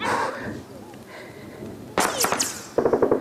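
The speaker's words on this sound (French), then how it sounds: "Les balles fusent" Gunfire in a battle at Brega, Libya, with bursts of sharp cracking shots late in the clip, fairly close, after a stretch of low background noise and some indistinct talk.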